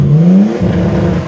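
A Nissan Skyline R32 engine revs up close and loud, its note climbing briefly before settling into a stuttering, bouncing buzz like a rev limiter.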